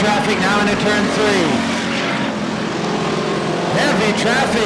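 Race cars in the Budweiser Racing Series at Bakersfield, California, roar through heavy traffic into turn 3, a loud continuous engine drone with pitch sweeps as cars pass, under steady commentary.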